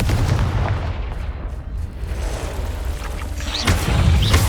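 Bombarda and Confringo spell blasts in Hogwarts Legacy boom and crack like artillery over a rumbling low background, with one big hit near the start and another sharp burst toward the end, loud and close.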